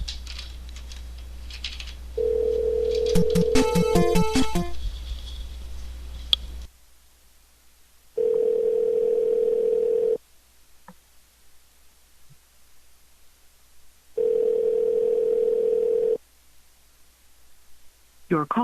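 Phone call to a blocked number: a steady electronic ringback tone repeats in long bursts separated by silence, preceded by a short stretch of clicks and line noise.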